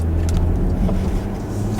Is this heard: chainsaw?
no